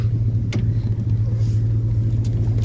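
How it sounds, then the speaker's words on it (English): A 2001 GMC Yukon's V8 engine runs with a steady, loud low rumble close by, with no clear separate rev peaks standing out and no talking. "Do three revs for Dale."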